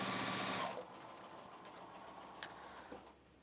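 A sewing machine stitching jelly roll fabric strips in a 45 degree seam: a fast, steady mechanical whir for under a second, then fading to a quiet hum with a couple of faint clicks.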